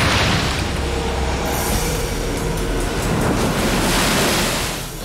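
Heavy ocean swell crashing at Bondi Beach, a loud continuous roar of breaking surf and foaming wash that rises and falls gently and fades slightly at the end, with no voices.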